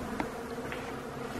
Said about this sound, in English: All those bees.